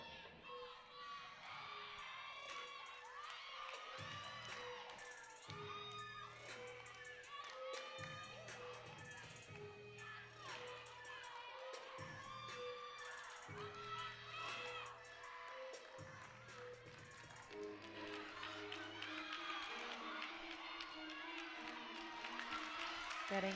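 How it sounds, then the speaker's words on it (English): A gymnastics team cheering and clapping for a teammate during a floor routine at a college meet, crowd noise steady beneath upbeat floor music and a commentator's voice. "the team cheering her on for this final pass"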